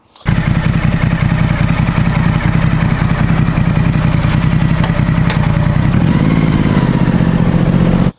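A Xiangshuai XS650N motorcycle engine runs steadily and loudly throughout, a rough, buzzy idle that rises slightly in pitch toward the end.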